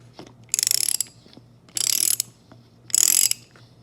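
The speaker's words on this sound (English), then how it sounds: "Oh, still need the ratchet, still tight." A ratchet loosens a tight spark plug on a Nissan RB25DET engine in three separate bursts of quick, close metallic clicking. Short quiet pauses fall between the bursts.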